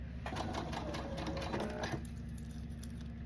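A sewing machine stitching a zipper pull runs in a quick rapid rhythm for about two seconds, then stops, leaving a quiet room hum.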